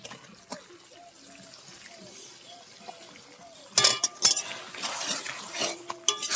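A spoon stirs fried potatoes into cooked-down masala in a pan while making rohu fish curry with potatoes, giving several sharp scraping clinks and clatters against a faint background, with no talking.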